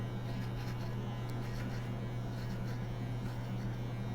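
Electric hair clippers fitted with a number 1 guard cut a fade, giving a steady, close electric buzz with a strong low hum that runs without a break and carries no talk over it.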